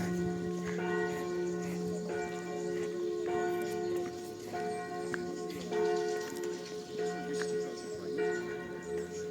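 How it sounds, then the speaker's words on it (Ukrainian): A church bell rings repeatedly in the background in Truskavets, steady strokes every second or so, with a soft patter of outdoor noise underneath. "Окрасою цього відео є церковний дзвін, який ми чуємо на задньому плані."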